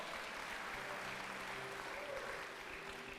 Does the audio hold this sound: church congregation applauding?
yes